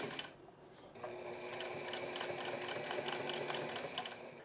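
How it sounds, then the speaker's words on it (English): A sewing machine stitches along the edge of a shirt placket in one steady, rapid mechanical run, heard quietly and up close with no talking. "Now run a quick stitch along the edge."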